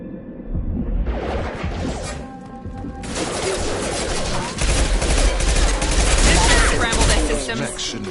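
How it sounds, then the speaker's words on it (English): Loud, dense gunfire in the video game Mass Effect 2, sustained bursts of automatic shots layered with impacts and crashes, building to a heavier barrage in the second half. "Shoot them before they take out the shield."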